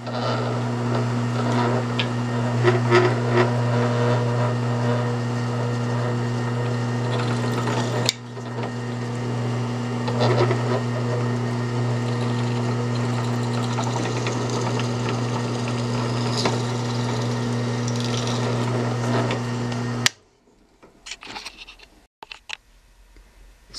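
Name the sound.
drilling holes through knife tang into wood scales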